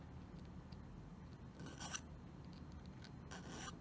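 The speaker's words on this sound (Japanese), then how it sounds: "ヤスリがけします。" Parts of a Woodland Scenics log cabin model kit are filed by hand, making quiet rasping strokes in two short bursts over a soft background hush, with no talking.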